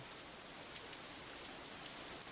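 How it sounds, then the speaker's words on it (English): Steady rain from the Katawa Shoujo video game hisses evenly and continuously with no pauses, an unbroken wash of falling drops heard alone without any voices. "The rain increases a little more"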